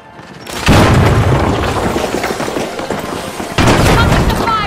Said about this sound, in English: Ready to detonate!